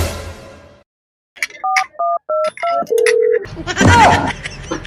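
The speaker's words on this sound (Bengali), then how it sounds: "আমি মহিষাসুরকে ফোন লাগাই।" A telephone keypad dials out while placing a call in a comedy skit: four short, evenly spaced two-tone beeps followed by one longer steady tone, loud and close, with a voice and rustling noise coming in at the end.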